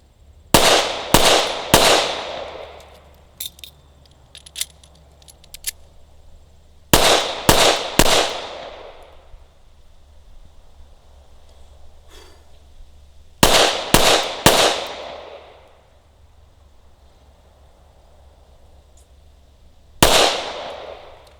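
A handgun fires in quick groups of three or four sharp, loud cracks with ringing decay, the bursts separated by pauses of several seconds as two magazines are emptied.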